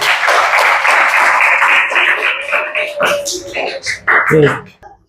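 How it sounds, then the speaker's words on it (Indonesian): Schoolchildren in a classroom clap for a classmate, a brief burst of close, uneven clapping that fades after a few seconds as voices and chatter take over. "Tepuk tangan buat teman kalian."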